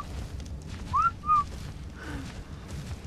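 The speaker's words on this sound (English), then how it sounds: "There are whistle commands for pets." Two short rising-and-falling whistles from a player character in the video game ARK Survival Evolved, issued as a command to tamed pets, sounding close and clear over a steady low in-game ambience.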